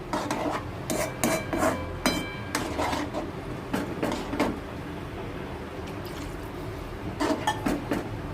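A spoon scrapes and clinks against a metal pot of curry in repeated uneven strokes, close and fairly loud, with no talking.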